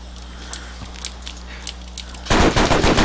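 Gunfire from the Ravaged video game, believed to be a sniper rifle, with faint scattered distant shots followed by a louder, sustained burst of fire near the end.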